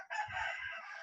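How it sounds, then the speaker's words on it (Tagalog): A rooster crows in a brief, faint burst that is somewhat distant and heard alone. "pasensya na sa manok"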